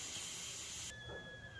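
A steady, loud high-pitched hiss of steam escaping a pressure cooker cooking dal that cuts off abruptly partway through, leaving a faint tonal whine and low background rumble.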